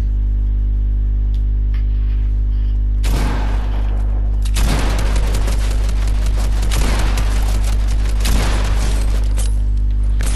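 Gunfire in the video game Fortnite starts partway through and continues as a dense, loud stretch of shots over a strong constant low hum.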